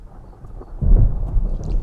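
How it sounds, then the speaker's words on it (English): A thunderstorm rolls in as low, rumbling thunder builds after a quiet moment and lingers for about a second, loud and boomy, with faint rain in the background. "I guess the horses were right about the storm."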